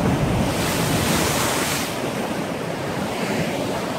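Sea waves wash steadily along the rocky shore at Porto Venere on the Italian Ligurian coast, a loud, continuous surf roar mixed with wind buffeting the microphone.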